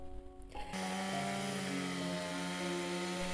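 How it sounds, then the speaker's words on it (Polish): A chainsaw cutting a fallen willow tree roars loudly and steadily after a short quieter start, its engine drone holding constant with gritty cutting noise throughout. "W miarę jak piła ryczała i drewno trzeszczało"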